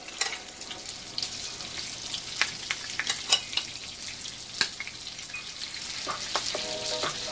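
Chicken pieces fry in a little oil with a steady crackling sizzle, scattered pops and a few brief clinks rising over the hiss; no one speaks.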